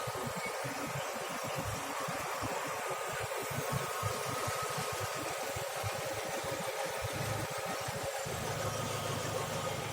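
A 2004 Chevrolet Lacetti with a 1.6-litre engine idling under an open hood: a smooth, quiet, even low hum that runs steadily for about ten seconds, with no voices.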